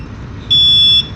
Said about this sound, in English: depth alarm buzzer is already activated. It means it's working.